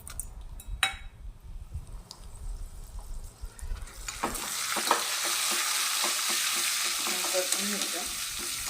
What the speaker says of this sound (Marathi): थोडी फोडणी देऊन घेऊया डाळीला.